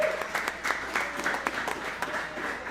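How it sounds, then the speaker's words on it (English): An audience applauding football players and their coach, a moderate crowd clap with a few sharper individual claps, somewhat distant. "can we give a round of applause for these gentlemen as well as Coach Ryan?"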